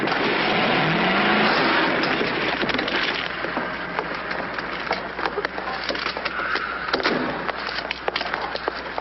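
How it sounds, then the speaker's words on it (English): A car engine roars and revs continuously at close range, with scraping and knocking bursts scattered through the noise. "Pretty reckless driving."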